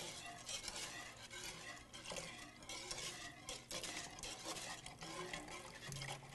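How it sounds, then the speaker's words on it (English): A whisk slowly stirs orange juice into a pan over low heat for homemade triple sec, giving close, continuous swishing and light metallic scraping at a quiet level. "So low heat, we're just going to slowly stir this in."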